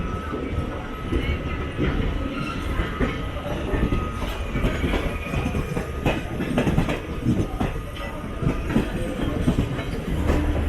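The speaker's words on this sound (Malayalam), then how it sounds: "Mumbai central ടെർമിനസിലോട്ട് കയറിക്കൊണ്ടിരിക്കുകയാണ് train." The 12922 Surat–Mumbai Flying Ranee Express rolls into Mumbai Central, a steady loud rumble with clickety-clack wheel beats and occasional squeals throughout, heard from inside the train.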